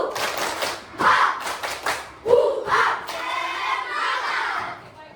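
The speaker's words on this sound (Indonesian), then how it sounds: "Tepuk semangat. Lebih semangat lagi karena kita sudah bagus sekali." A classroom of pupils doing a rhythmic spirit clap in unison, with sharp clap bursts mixed with chanted group voices and shouts, ending in a longer run of clapping.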